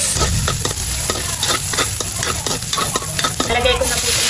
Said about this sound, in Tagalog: Magigisa na po ako ng bawang at sibuyas.